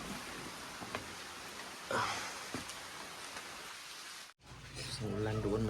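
Rain falls with a soft, steady hiss outdoors, fairly faint, with a few knocks and a brief dropout before it resumes louder with voices faintly underneath.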